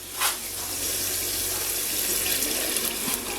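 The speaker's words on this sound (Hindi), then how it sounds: "अब मैं इसमें ऐड करूँगी थोड़ा सा पानी" Water poured into browned chicken keema cooking for aloo chicken keema, a steady close gushing pour like a running tap that stays even and fairly loud throughout.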